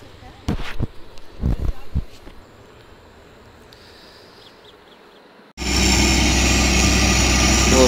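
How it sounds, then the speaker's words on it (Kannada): Borewell drilling rig engine starting up outdoors: after a few brief knocks and a quieter stretch with a faint voice, a loud, steady engine roar abruptly begins and runs continuously to the end. "ಬೋರ್ವೆಲ್ ಸ್ಟಾರ್ಟ್ ಮಾಡ್ತಾರೆ."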